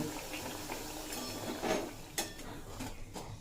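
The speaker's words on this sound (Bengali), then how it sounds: "আর ওই একইভাবেই সব কটা পাকোড়া ভেজে নেব" Jackfruit pakoras fry in hot oil with a steady, soft sizzle and bubbling, broken by a few light clinks of a utensil against the pan.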